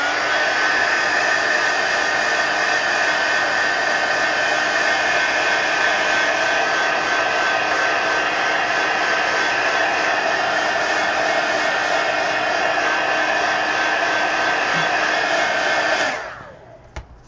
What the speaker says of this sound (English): Let's dry all the Posca.